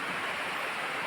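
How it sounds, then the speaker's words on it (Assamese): Steady rain falls on a cold, gloomy day, a dense continuous hiss with no talk, loud and even throughout. "বৰষুণ দি আছে চাব।"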